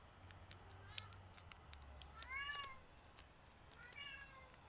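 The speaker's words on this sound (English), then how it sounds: "God, he's meowing a lot." A cat meows twice indoors, soft and somewhat distant, the calls a couple of seconds apart over faint clicks and rustles from paper folding.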